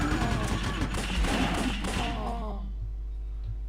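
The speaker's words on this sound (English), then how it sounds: "Machine gun it is." Machine gun fire in the video game Larva Mortus, a dense rattling burst of rapid shots with thuds that runs loud for a couple of seconds, then cuts off and leaves near silence.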